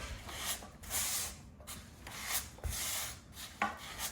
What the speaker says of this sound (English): So now I'm just gonna scrape it all down, work my groove line in my tiles.